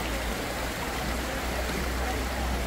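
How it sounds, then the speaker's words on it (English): A river near a waterfall keeps up a steady, dense rushing roar that fills the whole moment without a break. "And that's the river."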